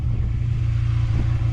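A motorbike runs with a steady, loud low engine drone close by, a continuous throbbing rumble with no talk as the ride gets under way.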